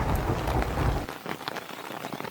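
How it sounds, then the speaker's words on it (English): Heavy rain pours steadily against window glass, a dense close hiss with scattered louder drops throughout. "The rain outside grew heavier, drops racing down the glass like tiny tears."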